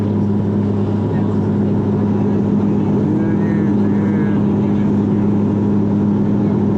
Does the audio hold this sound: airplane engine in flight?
yes